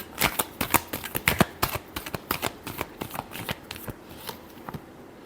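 A deck of tarot cards is shuffled steadily, a continuous close riffle of crisp flicking snaps that tapers off toward the end, with no voice.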